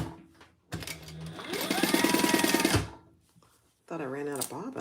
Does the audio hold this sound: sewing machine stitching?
yes